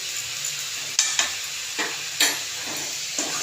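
Soup with turmeric and salt is stirred in a pan: a handful of irregular scraping strokes of the spoon over a soft, continuous sizzle, close by and without speech.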